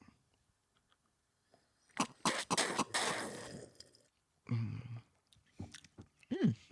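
Someone sips and slurps a pink lady style cocktail, with scattered wet mouth noises, throat sounds and a few bursts of gulping and swallowing between quiet pauses, fairly close.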